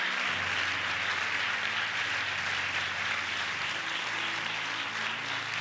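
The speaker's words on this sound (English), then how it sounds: "Let's give the contestants a huge, huge round of applause for the fantastic work done." Sustained audience applause for contestants at the Miss Gibraltar 2016 pageant, a steady dense wash of clapping that holds at an even level throughout, with a faint low musical hum underneath and no talking.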